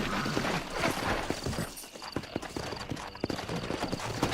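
Horse hooves clip-clopping in the video game Red Dead Redemption, a steady run of close hoof strikes over a soft background, with no talking.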